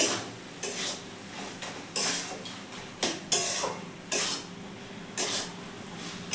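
Spoon scraping and clinking against a pan as banana flower curry with prawns and a little sugar is stirred and dried out, irregular metallic knocks and scrapes at close range.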